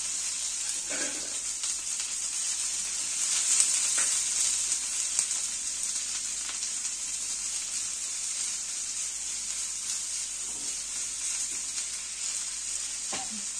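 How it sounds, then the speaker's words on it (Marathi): Kharda, a chili-garlic paste, frying in a little oil for okra bhaji: a steady, even sizzle throughout with faint clinks of stirring, no voices. "आणि त्यात मी खरडा टाकून भाजून घेऊ"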